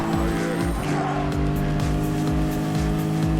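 Race car engine in a PlayStation racing game drones at high pitch with steady tonal revving and repeated gear-shift steps, plus a brief tire squeal, continuous and loud with no talk over it.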